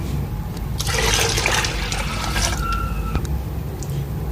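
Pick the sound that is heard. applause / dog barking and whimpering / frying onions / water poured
water poured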